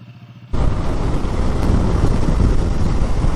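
Suzuki 800 adventure motorcycle ride near Dubois, Wyoming: after a quiet idle-like start, a loud steady rush of engine and wind noise takes over abruptly and holds constant, close to the microphone.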